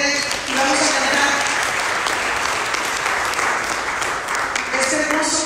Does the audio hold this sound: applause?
yes